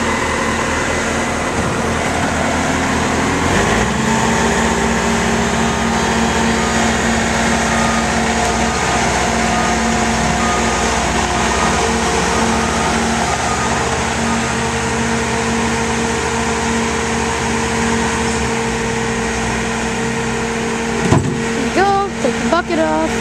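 A Bobcat T750 tracked skid steer idles with a steady diesel drone and low hum, changing pitch slightly after a few seconds, with a short metallic clank near the end as an attachment is handled.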